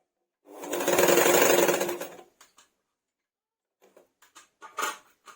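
Sewing machine stitching along a folded hem of old cloth for a bolster pillow cover, one steady loud run of about a second and a half, followed by a few faint clicks and taps of handling.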